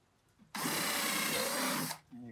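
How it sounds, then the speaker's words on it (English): Power drill boring holes during a cigar box guitar build: a single loud, steady whir of about one and a half seconds, close by, starting and stopping abruptly, with quiet talk just before and after. "You drill the other holes."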